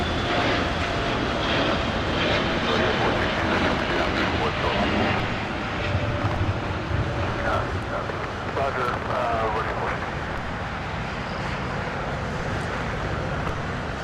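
An Austrian Airlines jet taxis at LAX, its engines a steady, broad roar with a faint whine, continuous and moderately near, with outdoor traffic rumble beneath.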